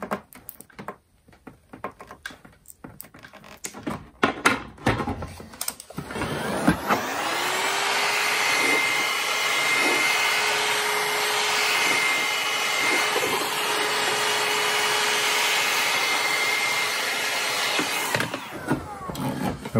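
Heating tool warming the seal of a Toyota Celica headlight, a steady loud whoosh with a constant tone that starts after some handling clatter and runs for about eleven seconds before cutting off.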